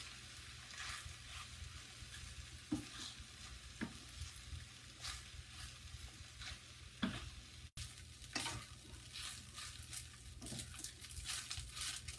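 Chicken fried rice with soy sauce is stirred and mixed in a pan, producing a soft, continuous sizzle with irregular scraping strokes and occasional clacks.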